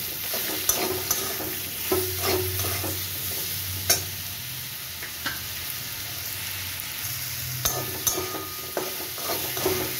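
Salt, turmeric and sugar get stirred through hot oil in a frying pan for a potato and pointed gourd curry with coconut, a continuous close sizzle broken by repeated spatula scrapes and sharp taps against the pan.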